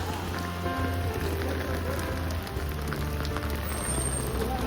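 Steady rain falls at the Tirupati bus stand, a constant even hiss of drops hitting surfaces with a low rumble of the surroundings beneath and no voices.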